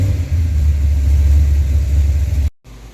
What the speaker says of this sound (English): Give a couple blips to the throttle.